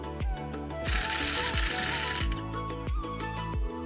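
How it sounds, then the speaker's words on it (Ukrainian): The control chain of a vertical blind is pulled through its ratchet, giving a run of crisp, close mechanical clicks in a steady rhythm with a brief buzzing whir partway through. "потрібно прокрутити ланцюжок керування спочатку в одну сторону, а потім у протилежну до спрацювання тріскачки"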